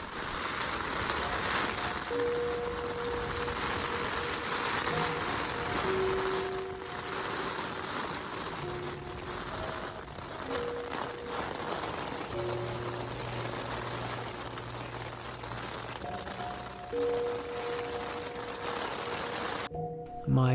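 Rain falling on the rainfly of a Featherstone tent at a Joshua Tree campground, a dense continuous patter close overhead with steady hiss throughout and faint tonal hums in the background.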